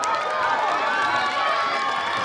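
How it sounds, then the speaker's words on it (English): Audience applause for a small group of kindergarten students called up at a school flag salute assembly, a steady dense wash of clapping that fills the whole stretch with no letup. "Let's give a big round of applause for these."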